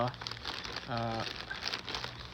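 Crinkling of a plastic bag that holds a folded canvas tarp, opened while unpacking a solar-powered fountain kit. The crackle is close and continuous for about two seconds, with a brief voice-like hum partway through.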